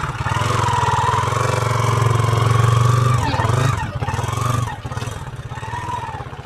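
A motorcycle engine idles close by with a steady low throb while the bike is rolled backward, amid tense roadside unrest, a whining tone rising and dipping and scraping noises breaking in toward the end.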